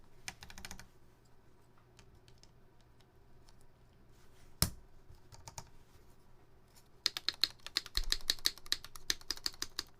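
A mechanical keyboard fitted with modded keys clacks in bursts of typing, with a sparse stretch in the middle and a dense, rapid run toward the end, close and fairly quiet.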